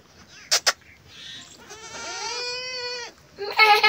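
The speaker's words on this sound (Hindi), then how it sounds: "इसमें है जी छोटी बकरी के बच्चे" Small young goat kids, covered against the winter cold on a village farm, bleat in one long wavering call after a couple of short sharp knocks, close and clear, with another burst of noise at the end.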